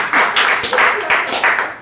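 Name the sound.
audience clapping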